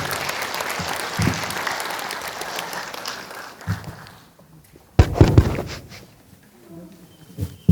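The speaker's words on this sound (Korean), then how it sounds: "문현경 교수님을 뜨거운 박수로 맞이해주시기 바랍니다." Audience applause welcomes a professor at a Buddhist memorial academic conference, fairly loud clapping that fades out, followed by scattered thumps and handling noises from the stage.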